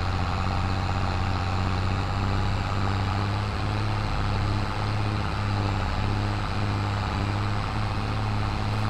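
A Case tractor pulling a straw baler in Farming Simulator 22, with the engine droning steadily under load and a deep, constant hum carrying on throughout.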